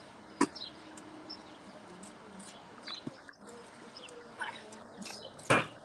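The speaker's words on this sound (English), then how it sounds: "Feeding the birds." Birds being fed outdoors call and coo faintly amid soft ambient noise, with a few sharp chirps and clicks scattered through the scene.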